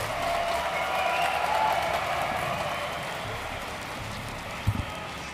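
A crowd at a StarCraft 2 DreamHack Open grand final cheers and applauds with a dense, steady roar of clapping that slowly fades a little, heard alone.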